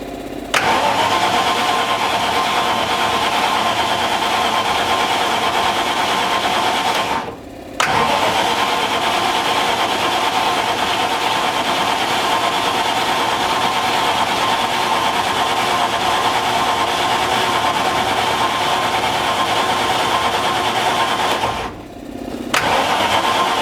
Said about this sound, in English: A perfect example of how an engine doesn't run.